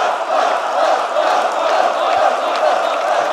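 A large esports arena crowd at a Rainbow Six Siege major grand final roars and cheers continuously, a dense wall of voices with scattered whoops rising through it.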